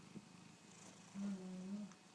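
A cat purrs softly and close by, a low rumbling drone that swells louder for a moment midway, faint and quiet overall.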